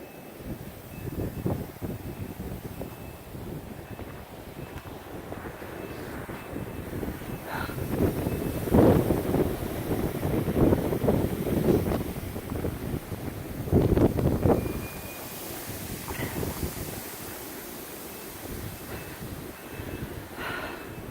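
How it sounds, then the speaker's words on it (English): Wind blows during a cold snowstorm outdoors as a low, buffeting rumble across the microphone. Faint gusts rise and fall continuously for about twenty seconds, with no talking. "It is so cold and windy."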